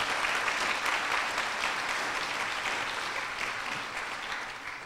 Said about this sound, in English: Marilyn Ford and Kate Stith-Cabranes deserve another round of applause for the wonderful job they did in putting this together